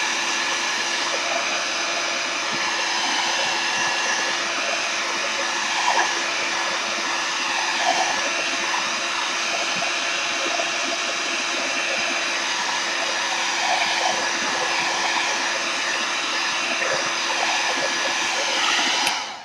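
A heat tool blows steadily for about twenty seconds while drying ink used in papercraft, a loud continuous whooshing roar at constant level set a little away, cutting off at the end with no talk.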